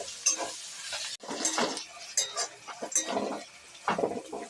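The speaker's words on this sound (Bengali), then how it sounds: "আদা রসুনটা দিয়ে একটু নাড়িয়ে চাড়িয়ে নেব।" Ginger and garlic fry in a pan while being stirred, with soft sizzling and scraping strokes recurring close by and fairly quiet, no talking.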